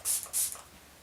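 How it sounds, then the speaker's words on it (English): MAC Fix Plus setting spray hisses from a pump bottle in two quick, bright, close bursts, followed by quiet. "I am going to take it and spray it with MAC Fix Plus"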